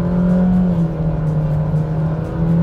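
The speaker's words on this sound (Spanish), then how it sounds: "Subo las revoluciones a 2000." Renault Logan 2020 sedan with a CVT gearbox, engine revved to about 2000 rpm; a steady, close, droning hum holding a fairly constant pitch throughout.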